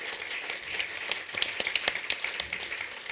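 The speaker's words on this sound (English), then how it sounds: "So a very well warm applause for the two." An audience applauds steadily at a Zurich Art Weekend talk, with dense, moderately loud clapping and a few sharper claps standing out, and no voices over it.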